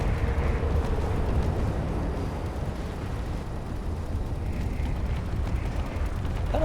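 Torpedo explosions in Space Engineers rumble heavily and continuously during a space battle, a dense low roar of blasts with no clear breaks, loud and close, and no talking.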